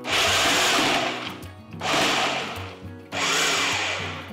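A food processor whirs in three short pulses, each a loud grinding burst with brief pauses between, chopping dried fruit and nuts.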